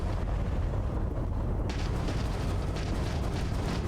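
Missile impacts in the video game Starfield come as a deep, continuous rumbling boom with a sharper burst partway through, loud and dense and heard without talk.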